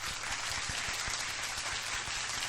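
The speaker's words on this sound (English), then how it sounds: "Round of applause." Continuous crowd applause runs for a short stretch. It is a dense, even roar of many hands clapping, with a low steady hum underneath.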